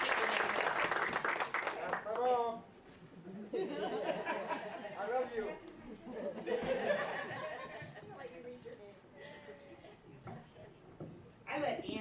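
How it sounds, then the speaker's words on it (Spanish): Audience at a Chicago inclusion town hall applauds the panelists, a sustained burst of clapping mixed with chatter and light laughter, with talk continuing over the tail. "Pido aplausos para ellos."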